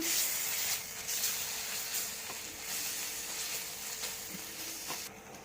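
Ginger garlic paste fries in a pan for boiled egg bhurji, giving a continuous close hiss and sizzle that slowly eases, with a few faint clicks and no talk.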